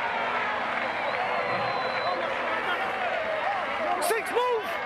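A stadium crowd at an Argentina versus France rugby test match murmurs and swells, a constant roar held under a commentator's voice, with whistles or shouts rising near the end.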